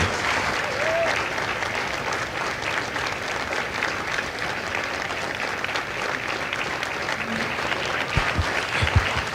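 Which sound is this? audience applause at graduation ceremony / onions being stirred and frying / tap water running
audience applause at graduation ceremony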